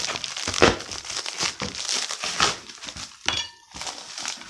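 A big shipping package is ripped open by hand, with continuous crinkling, crumpling and tearing of packaging material, close up and moderately loud, with no talking.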